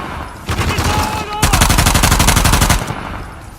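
Gunfire in Uncharted: The Lost Legacy: loud, close automatic bursts with rapid rattling shots, a brief pause, then a denser and heavier volley for about a second before it fades.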